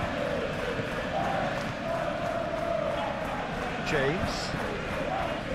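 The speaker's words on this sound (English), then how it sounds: "the crowd are reacting to that now" Stadium crowd noise in the PES 21 football game, Leeds United against Liverpool in the Premier League, a steady murmur and swell of spectators running continuously beneath a commentator's talk.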